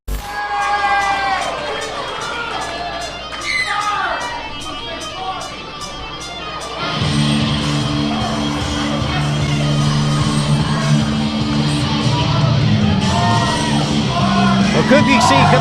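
A wrestling crowd at a pro event cheers, yells and shouts continuously, loud and close, while a commentator talks over the noise throughout.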